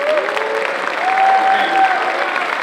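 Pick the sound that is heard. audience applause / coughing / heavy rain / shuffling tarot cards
audience applause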